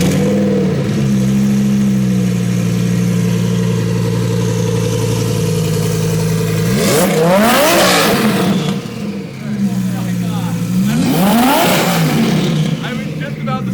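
A twin-turbo, 1100 hp Lamborghini Huracan engine idles with a deep, steady burble and is then revved twice. Each rev climbs sharply in pitch and falls back, and voices are faintly mixed in.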